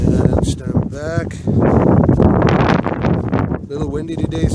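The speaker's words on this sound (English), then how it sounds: "A little windy today" Gusty outdoor wind buffets the microphone with loud rumbling bursts while a person talks briefly at the start and end, during a quadcopter flight.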